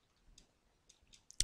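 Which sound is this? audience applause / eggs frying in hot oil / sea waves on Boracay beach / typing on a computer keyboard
typing on a computer keyboard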